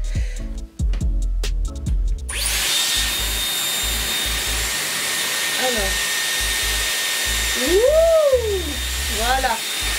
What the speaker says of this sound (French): c'est un tourbillon d'air qui va enrouler le cheveu autour de la machine